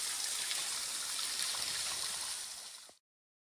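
Shallow creek water at low autumn level flowing over a rocky creek bed on a forest trail, a steady broadband rushing and trickling close by, with no voices, ending abruptly.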